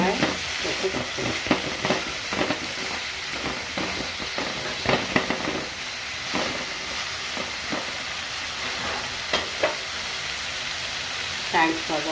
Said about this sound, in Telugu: బీరకాయ పచ్చడికి పోపు జీలకర్ర, ఆవాలు, ఎండుమిరపకాయలు అయితే ఇలా పోపు చేసుకోవాలి